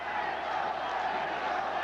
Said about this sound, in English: The fans, capacity crowd, loving it